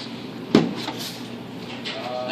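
A Stanley wrench set gets grabbed from storage with one sharp clack as the case or drawer knocks, then quieter rustling and handling follow nearby.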